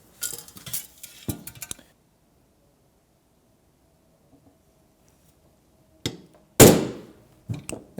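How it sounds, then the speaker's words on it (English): A center punch tapped against a Pedaltrain Classic pedalboard to mark a drilling spot: a few sharp metallic clinks and taps, then a quiet pause and another burst of louder strikes near the end. "before drilling, I suggest you use a center punch"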